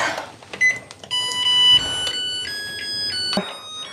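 A rice cooker gives a series of sharp electronic beeps as its quick cooking mode is selected, several short tones close up against a quiet kitchen background.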